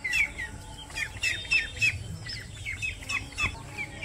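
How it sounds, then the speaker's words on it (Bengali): Chickens in a village yard squawk and cluck close by in quick, repeated bursts, with sharp calls over a low murmur of background noise. "মুরগিও আছে"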